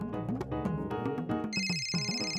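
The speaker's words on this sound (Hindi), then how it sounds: "फोन बज रहा है" A phone rings indoors in a household scene, its steady high electronic ring tone entering midway over busy music and dialogue-like sounds, fairly loud and close.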